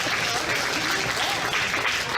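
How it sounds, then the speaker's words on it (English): An audience at a Guernsey County Fair beef showmanship show gives dense, steady clapping, close and continuous throughout the short burst. "Let's give him a round of applause."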